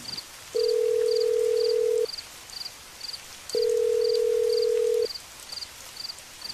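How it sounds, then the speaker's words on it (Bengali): A phone call rings out unanswered on a rainy night, with two long ringback tones separated by a pause, a third starting at the end, and a faint steady chirping background throughout. "প্রতিবারই ফোনটা বেজে বেজে কেটে গেল"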